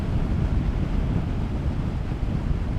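Steady, rumbling wind buffeting the microphone while riding a 2022 Suzuki SV650 naked motorcycle, a dense low roar with no talk over it.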